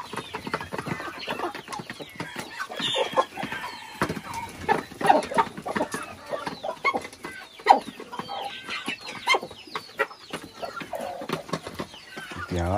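Chickens cluck continuously, several birds close by with overlapping clucks and short squawks, fairly busy and steady throughout.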